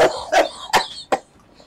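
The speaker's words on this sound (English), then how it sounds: "Old people cough. They cough." An elderly woman coughs three times in quick succession, fairly close and loud, each cough a short harsh burst with brief pauses, followed by quiet.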